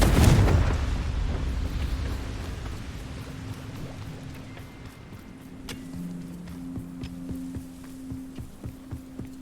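A Confringo fire spell explosion in Hogwarts Legacy, a heavy boom at the start that decays into a low rumble, followed by a hum and a rhythmic series of soft thumps.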